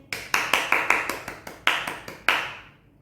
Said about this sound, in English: That's a clap for the new subscribers